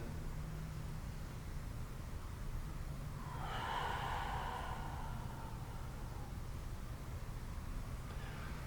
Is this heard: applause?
no